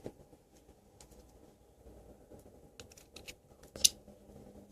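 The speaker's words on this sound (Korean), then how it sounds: "일단은 가위를 이런 귀부터 자를게요." Scissors snip at the ears of a handmade craft figure, making sparse, quiet clicks and cuts with one sharper snip near the end in an otherwise hushed room.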